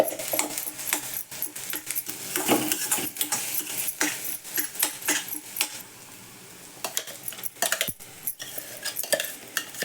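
Crushed green chili thecha is stirred and sautéed in a pan with onion and curry leaves, a spatula scraping and clinking against metal in irregular strokes over a light sizzle.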